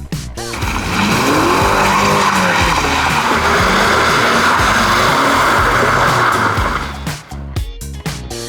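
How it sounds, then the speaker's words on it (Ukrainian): A Mercedes SLK300 sports car engine roars loudly as tires squeal in a long sustained skid, then the engine revs and shifts as the slide ends. "Отак він дуже легко зривається в занос."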